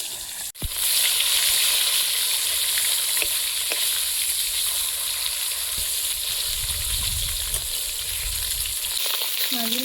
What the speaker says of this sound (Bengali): এক এক করে মাছগুলো দিয়ে দেবো। জ্যান্ত মাছ তো অল্প ভাজলেও হবে।